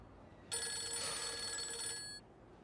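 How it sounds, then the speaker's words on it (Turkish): Telephone bell ringing in one sustained, bright metallic burst lasting under two seconds, loud and close over quiet room tone, with no talking during the ring. "Aç telefonu çalıyor hadi."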